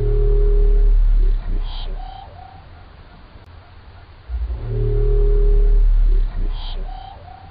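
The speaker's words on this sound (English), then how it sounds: "It's truly one of the stranger kinds of marine mammal sounds that I've ever heard" An unidentified marine mammal call recorded underwater near the Mariana Islands, heard twice as loud low tonal moans, each followed by short higher rising sweeps, separated by a quieter noisy gap.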